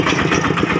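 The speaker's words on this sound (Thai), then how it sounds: "ค่อยขับรถไถไป" A walking tractor engine runs in Laos, a loud, close, rhythmic chugging with steady pulses throughout and no talking.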